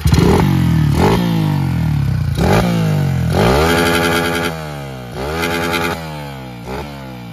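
A 2008 Honda CG Titan 150 motorcycle engine revs hard up to its rev limiter in repeated loud, close bursts, each climbing pitch then cutting back before the next rise.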